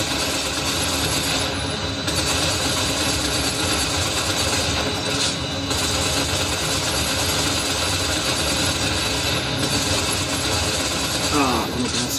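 Engines of an enemy transport aircraft in a video game form a dense, continuous droning roar that holds steady throughout at moderate loudness.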